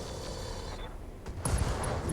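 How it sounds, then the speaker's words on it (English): Mech weapons firing in the Battletech video game, a dense barrage of gunfire blasts over constant rumbling noise that grows louder near the end, with sharp high clicks. "Firing all weapons."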